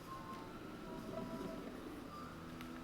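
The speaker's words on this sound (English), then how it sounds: "We'll just have to take the train home." Continuous low rumble and rolling hum of a train in the video game Astroneer, steady and moderately loud throughout with faint mechanical tones on top, no voices.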